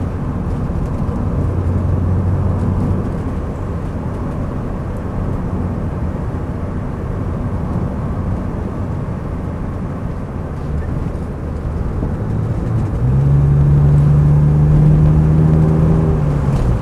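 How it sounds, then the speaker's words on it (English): A BMW 635CSi Highline automatic with a remapped ECU drives along, its engine a steady, close drone that shifts pitch and swells louder near the end as the gearbox changes. "The gear changes are really lovely and smooth."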